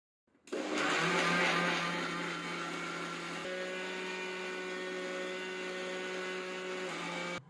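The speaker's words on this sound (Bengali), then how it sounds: "এবার সবগুলো উপকরণ ভালোভাবে ব্লেন্ড করে নিতে হবে।" A kitchen blender whirs steadily as it purees a mango ice cream mixture with thickened milk, the motor loud and continuous from start to finish, its pitch dropping slightly partway through as the load settles.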